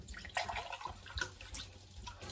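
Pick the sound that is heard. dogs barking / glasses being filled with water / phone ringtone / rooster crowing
glasses being filled with water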